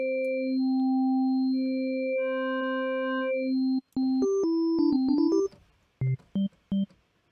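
Native Instruments Massive synthesizer wavetable tones, sustained bright pitched notes that step between pitches, then a quick run of shifting notes and three short staccato blips ending it.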